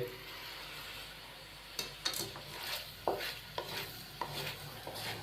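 Vegetable macaroni seasoned with white pepper and soy sauce is stirred in a pan, with a handful of distinct spoon scrapes and clinks over a faint sizzle, close and quiet.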